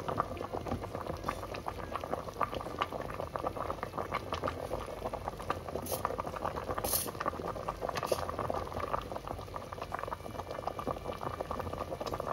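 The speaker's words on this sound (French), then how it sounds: "Vous pouvez remarquer qu'elle est en train de bouillir." A pot of fish broth boiling on the stove, with steady quiet bubbling and pattering throughout, fairly close and alone without voices.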